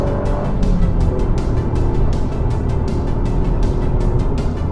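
A 2021 Toyota GR Yaris launches hard on a road, its engine loud and close, surging steadily under load with a rapid pulsing rhythm throughout.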